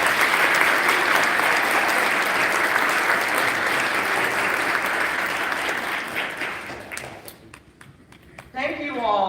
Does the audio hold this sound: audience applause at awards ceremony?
yes